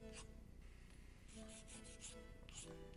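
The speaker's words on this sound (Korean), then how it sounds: "파일링 해줄게요." Nail file rasping on a sculpted polygel nail, a run of quiet, short, scratchy strokes in an uneven rhythm, close by in an otherwise quiet room.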